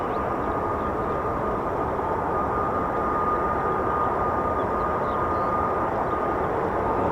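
An F-35 fighter jet at RAF Lakenheath gives off a steady, unbroken roar of jet engine noise that holds at a constant level from start to finish.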